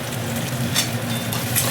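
Ginger-garlic paste sizzles with sea stingray fish in a hot pan, a steady loud frying hiss with a few brief stirring scrapes.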